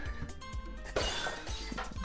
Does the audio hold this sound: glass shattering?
yes